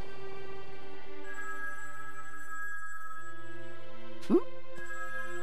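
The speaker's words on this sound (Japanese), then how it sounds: "電話だ。" An in-game phone in Dragon Ball Z Kakarot rings with steady electronic tones over soft background music, broken by a sharp rising blip; a voice briefly murmurs.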